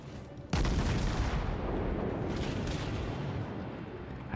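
Naval gunfire from the Nürnberg cruiser in World of Warships: a sudden heavy boom opens a sustained, rumbling barrage of ship guns that stays loud and dense throughout, with no voices.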